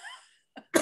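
A short, sharp cough followed by another harsh burst, close to the microphone, with no other sound around it.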